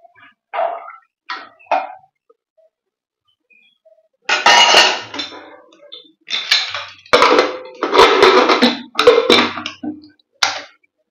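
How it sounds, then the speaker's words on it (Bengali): Soaked dal being stirred and mixed in a cooking pot for Dhaba-style egg torka, with short bursts of metallic scraping and clanking, then longer, busier rounds of stirring close by. "এইভাবে ঘেঁটে দেবো।"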